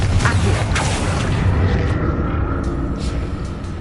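A Confringo blasting spell detonates in a Harry Potter video game, a deep booming blast with rumbling, creaking debris that slowly trails off.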